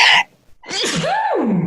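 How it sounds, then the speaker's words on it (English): A single loud, sharp sneeze from a person bursts out close by, followed by a brief pause and a rising-and-falling vocal sound. "going to sneeze."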